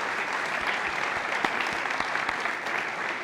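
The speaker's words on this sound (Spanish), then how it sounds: "me gustaría que todos diéramos un aplauso" An audience at a Kubernetes and AI tech event applauds steadily for a few seconds, with dense clapping heard from within the crowd.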